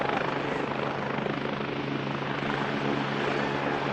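A helicopter taxis at Manchester Airport, its rotor and engine producing a loud, steady, close roar that continues without a break, with no talking.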